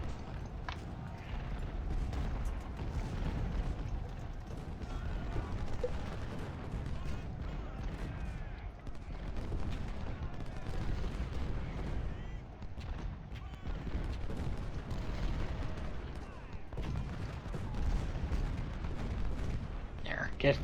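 Massed musket and artillery fire rolls on without a break in the Civil War strategy game Ultimate General: Civil War, a dense crackling battle din under a speaking voice.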